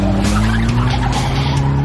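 A stripped-down scrap car with no windscreen accelerates hard at around 100 mph, its engine a loud, steady drone with a faint tyre skid or squeal riding over it, continuous and close throughout.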